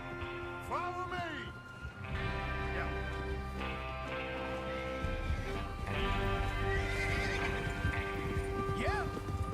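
Horses in the video game Red Dead Redemption neighing and whinnying several times over steady hoofbeats and rumbling movement, with a voice speaking over the ride.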